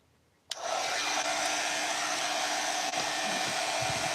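A hair dryer blows steadily on resin-coated Easter crosses made with crushed glass, switching on abruptly after a short quiet moment and then running loud and unbroken at close range.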